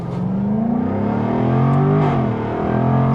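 A 2022 Jaguar F-Type P450 AWD accelerating hard, its engine droning loudly and rising in pitch through a gear change around the midpoint, then climbing again, with no talk over it.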